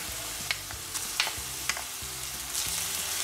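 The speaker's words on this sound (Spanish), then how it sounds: "Y vamos a seguir friendo por unos minutos más también." Oil sizzles steadily in a pan frying garlic and cumin while a utensil scrapes and clicks against it several times; no voices.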